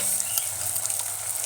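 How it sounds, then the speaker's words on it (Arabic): Tomato sauce being stirred into frying onions in a pan while making stuffed vegetables, a steady close sizzle with soft scraping strokes of the spoon throughout, no talking. "ونقلب بقى كده"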